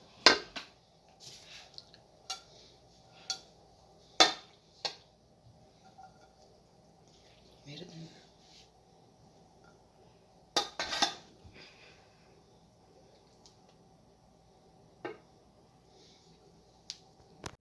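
Dishes and cutlery clink as macaroni is served to children at home, with scattered sharp, close taps and clatters separated by quiet gaps and no talking.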